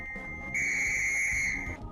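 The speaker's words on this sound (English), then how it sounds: "The teacher blew on her whistle to signify a fault." A teacher's whistle in a video game sounds one sharp, shrill, sustained blast of about a second, clear and close over a quiet background.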